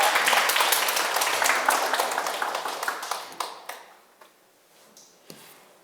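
An audience at a religious lecture gives dense, sustained applause that gradually thins into scattered individual claps and fades to near silence.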